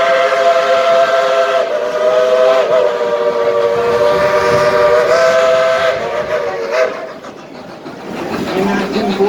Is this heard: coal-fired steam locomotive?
yes